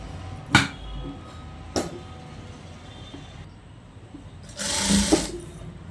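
A sewing machine stitches a long frock in short runs: two quick whirring bursts, a pause, then a longer, louder run of stitching near the end, with no talking.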